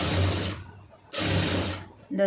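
A sewing machine stitches a blouse lining in two short, loud bursts of rapid whirring clatter separated by a brief pause, with a quick start of a third at the end.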